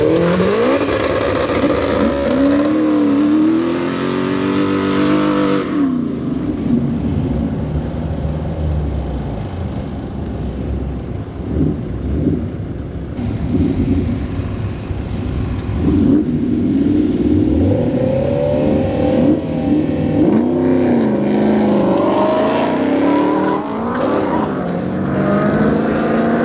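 A 1967 Chevrolet Camaro drag racing at York Raceway, its engine roaring loud and close with rising and falling revs as it passes, easing off midway before building again through the rest of the run.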